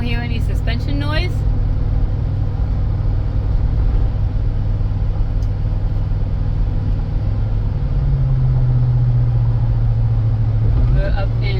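A 2003 Ford Explorer on a test drive gives a steady low cabin rumble of engine and road noise, with the pitch rising near the end, and someone talks over it at the start and finish.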